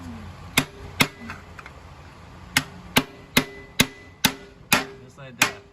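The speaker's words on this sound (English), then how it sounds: "It's got a side on it where you can hit it with a hammer." Sharp metallic hammer blows strike a screwdriver to separate a Subaru Forester XT clutch, about ten distinct ringing hits at irregular intervals, close and loud with quiet workshop noise between them.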